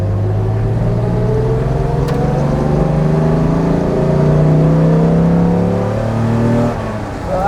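A warm 1955 Mercedes 300 SL Gullwing engine pulls hard under acceleration, its loud droning note climbing steadily in pitch through the gears, heard close from inside the car with no talking.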